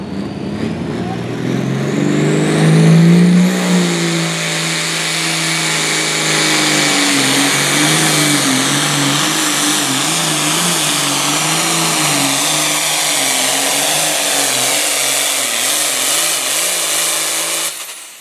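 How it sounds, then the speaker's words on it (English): A John Deere 4020 tractor engine drones steadily under load at a tractor pull, loud and close, its pitch wavering slightly as it pulls. "There's another one of them classic sheet metal tractors, a 4020."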